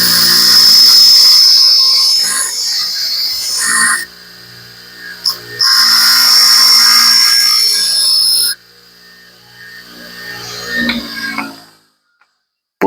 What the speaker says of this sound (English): I'm going to put this on the grinder.